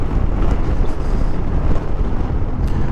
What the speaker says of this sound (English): Wow, windy in this canyon.